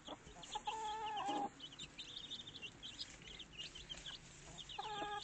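Hens cluck indoors in a straw-lined coop with young chicks nearby: bursts of close, harmonic clucking at the start and end, with steady soft chirping throughout.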